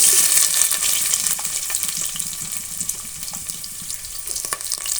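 Chopped onions sizzle steadily in hot oil in a pan for bread pulao, a close, broad hiss that eases slightly over a few seconds with faint stirring.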